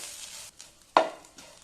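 Half a cup of grated coconut stirred in a pan, soft scraping strokes and a faint sizzle, with one sharper clatter midway; quiet and close.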